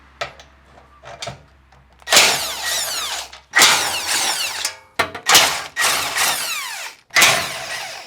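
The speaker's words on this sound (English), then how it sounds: "remove our skid plate, which is going to be four 12mm bolts on each corner" A power tool, likely an impact gun, removes the 12mm skid plate bolts under a 2022 Subaru WRX: a few light clicks, then four long whirring bursts with rising and falling pitch and short pauses between them, loud and close, no talking.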